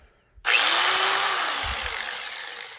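A 4.5-inch grinder with a belt sander attachment starts abruptly and spins up into a loud, steady whine, sanding a 240sx quarter panel up close with a slight dip in pitch as it bears down.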